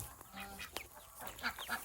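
Village chickens and ducks clucking in a farmyard, scattered short clucks and calls at moderate distance, fairly faint over background noise.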